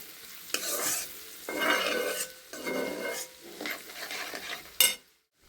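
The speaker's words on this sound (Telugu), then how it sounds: "వేసి ఒకసారి మంచిగా కలుపుతున్నా." Garlic is stirred in a pan over a low flame while cooking a spring onion curry. Several bursts of soft sizzling and scraping come close together, each a second or so long, with brief quiet gaps, then a sharp clack before silence. No voices.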